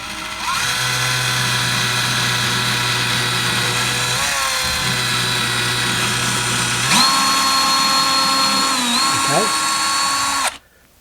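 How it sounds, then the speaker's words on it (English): A power drill with a 3/16-inch bit bores a pilot hole into a wall stud for an over-the-range microwave install, whining steadily and loudly with a brief pause, then rising in pitch before cutting off abruptly. "let's pre-drill that hole. We're going to use a 3/16 drill bit, and we're just going to drill it until we hit into the stud."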